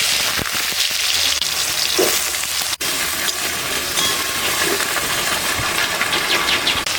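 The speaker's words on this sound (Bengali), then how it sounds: "প্রথমে আলুগুলো ভেজে নেব।" Potatoes frying in mustard oil in a home kitchen, a steady dense sizzle with broadband crackle running throughout, one brief dip in the middle, no talking.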